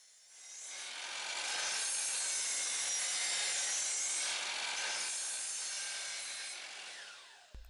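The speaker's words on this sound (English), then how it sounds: "I'm using a miter saw to cut the pieces per length." One miter saw cut through treated wood: a harsh, rasping noise swells up, holds for several seconds, then fades and stops.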